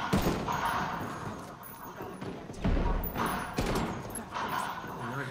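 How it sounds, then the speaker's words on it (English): Bursts of automatic gunfire in a Ghost Recon Wildlands firefight, several loud rattling volleys with short gaps between them, heard up close under a man's excited speech. "Taking fire"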